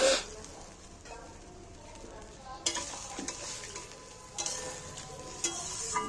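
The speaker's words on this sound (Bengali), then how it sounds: "এইবার আমি মাছের মাথাটা সেদ্ধর জন্য একটু জল দিয়ে দিই" Spiced katla fish head sizzling and frying in a pan as water is poured in, a continuous hiss with stirring scrapes and sharper bursts of sizzle.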